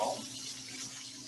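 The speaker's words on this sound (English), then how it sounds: "let me rinse off my hands real quick" Running tap water splashes softly and steadily, faint and continuous, as hands are rinsed beneath it.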